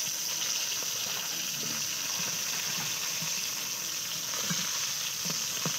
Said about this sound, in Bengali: মাছটা লাল করে ভেজে নেবো